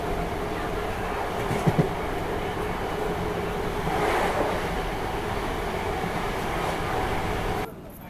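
A Barddhaman–Katwa local passenger train runs with a steady rumbling roar of wheels and carriage noise, close and continuous. One or two brief clanks break the roar near the start, and the noise drops off abruptly just before the end.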